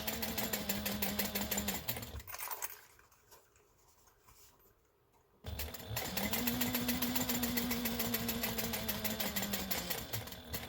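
A sewing machine stitches along the edge of a vinyl bowler bag, a steady fast mechanical whir and hum that stops for a few seconds and then starts again, close and alone.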